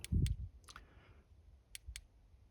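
Sharp, dry clicks from the triggers of an RG Nano handheld console, pressed a few times in an uneven rhythm, close and fairly quiet.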